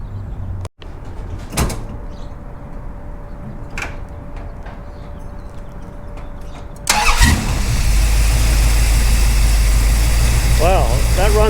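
A 1969 Dodge Coronet 500 cranks and fires up at about seven seconds, then settles into a loud, steady idle with a deep rumble, after quieter background noise and a door sound near the start.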